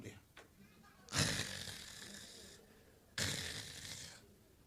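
A voice mimics snoring with two loud, rasping inhaled snorts, each lasting about a second and separated by a short pause.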